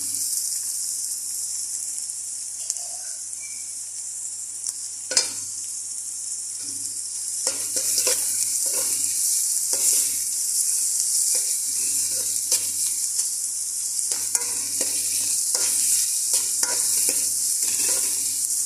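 Minced garlic, already salted, sizzles steadily in a hot pan as it is sautéed, with occasional stirring scrapes and a constant bright hiss that grows a little louder midway.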